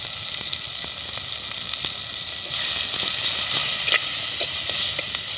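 Chopped tomatoes with a little turmeric powder sautéing in a pan, a steady close sizzle and hiss with small crackles and pops, no talking.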